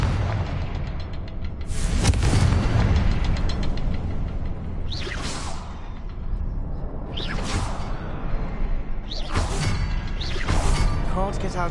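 Confringo spell blasts in Hogwarts Legacy erupt as loud booming explosions with sharp whooshing bursts, several hits in quick succession over a dense, rumbling game soundscape.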